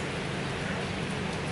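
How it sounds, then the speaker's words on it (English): Rain falls at a small outdoor market, a steady dense hiss of drops on surfaces filling the whole moment at an even moderate level with no voices. "It's raining."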